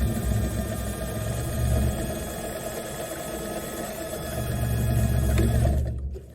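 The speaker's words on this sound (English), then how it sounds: "I'm going to stitch 3/8 away from the edge, all the way up to the top." A sewing machine runs a long continuous stitch along a seam 3/8 from the fabric edge on wide-leg pants, a close steady whir with a faint rising and falling pitch, stopping abruptly at the end.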